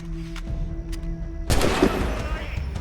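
A musket volley in Assassin's Creed 3 cracks out as a sudden burst of gunfire midway through, followed by a noisy, echoing tail over background battle ambience.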